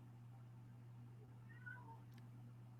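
Sage the cat meows outside a door, a single faint, brief cry rising and falling over a steady low hum, with nobody talking.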